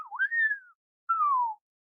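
A person whistles in imitation of a whistle during a told Irish story: two clear tones, the first sliding up then gently down, a short pause, then a second falling whistle, alone without talk.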